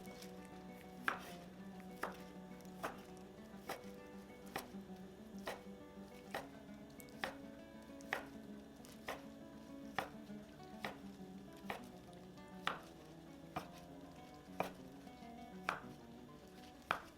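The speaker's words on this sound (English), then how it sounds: "let it rest for about 10 minutes before slicing it into" A knife cuts through roasted Cantonese char siu pork belly on a board in a steady series of about twenty crisp, evenly spaced chops, close and fairly quiet, with no one talking.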